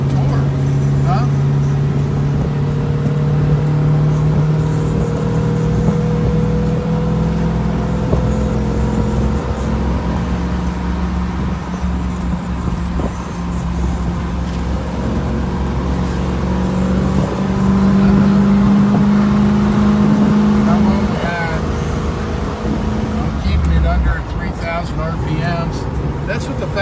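A 2019 Arkonik Land Rover Defender custom build pulls hard on a road test, its engine droning and swelling steadily throughout while someone talks over it.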